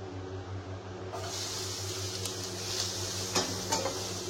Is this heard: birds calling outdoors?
no